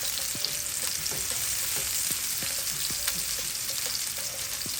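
Chopped onions sauté in hot oil in a skillet for seafood rice, giving a steady, close crackling sizzle with occasional sharper pops and faint stirring taps, no voices present.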